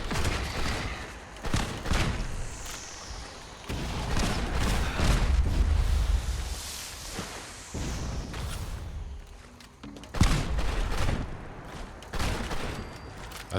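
Repeated gunshots in the post-apocalyptic game Fallout 76, sharp cracks in irregular bursts with booming reports and pauses between volleys, loud and close over a noisy combat background.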